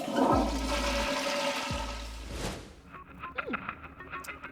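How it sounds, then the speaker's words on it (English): A toilet flushes with a loud whooshing rush of water that cuts off partway through, followed by fainter gurgling and trickling as the water settles. "Let's just hope the leaky loo is fixed and ready to flush."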